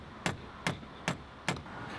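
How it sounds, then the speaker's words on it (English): Four evenly spaced hammer blows drive a nut into the wooden head of a homemade drill press. Each is a sharp, close knock with a short decay. "You simply can knock the dowel back out of the hole and then proceed to hammer in the nut."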